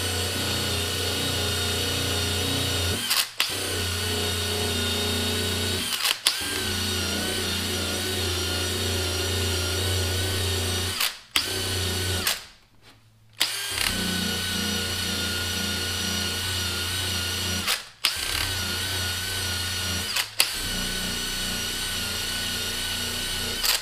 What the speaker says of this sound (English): it's time to start wet sanding on the doors and the fenders.